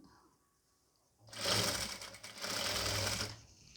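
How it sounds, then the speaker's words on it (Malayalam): A sewing machine stitches a nighty neckline, starting after a quiet pause and running in two loud, close bursts of rapid whirring separated by a brief dip. "ഒന്ന് കഴുത്ത് തയ്ച്ചു കൊടുക്കാം"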